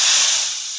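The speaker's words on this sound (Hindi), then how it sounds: "और ये देखो बिहारी स्टाइल में छौंका" Loud, steady sizzling hiss of spices hitting hot oil in a Bihari-style tempering, close up, fading slightly toward the end with no talking.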